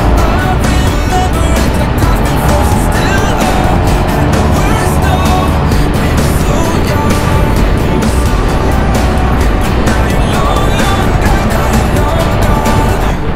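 Yamaha TMAX motorcycle with front and rear ABS riding on a solo ride through Zambales, steady loud engine and wind roar throughout with quick brake taps, no distinct pauses, constant close-up drone.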